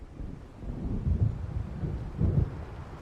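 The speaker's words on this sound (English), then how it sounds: "It seems there's a storm coming." A thunderstorm in the video game Alan Wake Remastered gives a steady low rumble of wind and rain, with two heavier thunder swells standing out in the middle.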